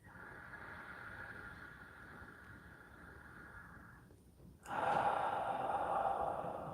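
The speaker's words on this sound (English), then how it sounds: "I'm just breathing in" Slow, steady breathing in and out during a guided meditation, soft and close, with a fuller breath swelling after a brief pause partway through.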